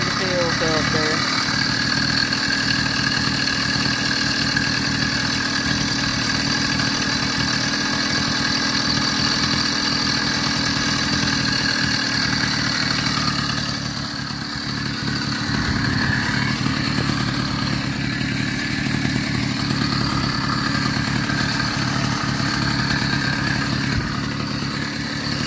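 A Zeda 66/80cc two-stroke bike engine idles close by for a long stretch, a constant buzzy rattling drone with a brief dip midway, while someone talks over it in places.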